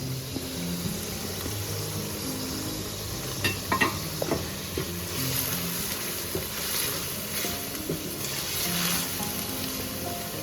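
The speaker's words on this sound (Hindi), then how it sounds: "कीमे में मैंने मसाला डाल दिया और उसको मैंने अच्छे से भुना है" Minced meat sizzles steadily in a pan with spices such as crushed coriander for an onion keema, with occasional close stirring scrapes over the constant frying hiss. No one speaks.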